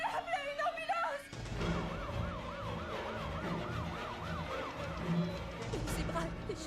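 An ambulance siren wails in a steady, rising-and-falling loop, loud and close, continuing to the end after a brief voice at the start.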